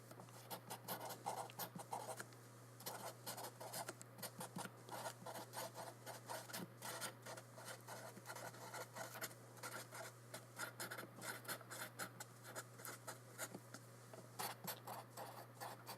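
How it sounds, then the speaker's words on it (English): A Sharpie marker scratching and rasping across thick paper, close and quiet, in continuous short strokes with brief pauses, over a steady low electrical hum. "I like the sound of the marker on the page."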